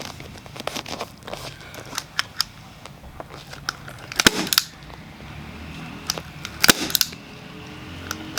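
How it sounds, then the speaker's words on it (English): A staple gun fires staples through fabric and foam onto the frame of a full-length tufted mirror, giving a series of sharp, irregular snaps nearby, with two noticeably louder shots among quieter clicks. "So we're just going to staple it down."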